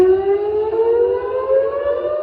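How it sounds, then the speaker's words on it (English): Civil defense warning siren wailing in Tel Aviv, a loud steady rising tone with harmonics, sounding alone and continuous. "Warning sirens in Tel Aviv today."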